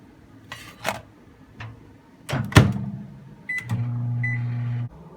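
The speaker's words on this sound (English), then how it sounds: "So now it's time to loosely cover this bad boy and microwave it." A microwave oven heats a Simply Asia noodle bowl: a few clicks and thuds as the door shuts and buttons are pressed, then a short beep and a steady low hum.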